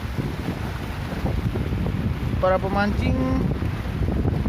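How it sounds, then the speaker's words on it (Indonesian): Wind and rain sweep over a fishing raft with a roof on Jatiluhur reservoir, a steady broadband rush throughout, while someone talks briefly partway through. "Sekarang lagi datangnya hujan sama angin."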